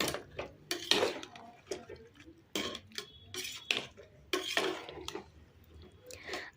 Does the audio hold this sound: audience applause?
no